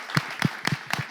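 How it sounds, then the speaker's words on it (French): Audience at a live game show event clapping for the yellow team, heard as four separate, fairly close hand claps spaced evenly apart rather than a full wash of applause. "On applaudit pour l'équipe de jaune."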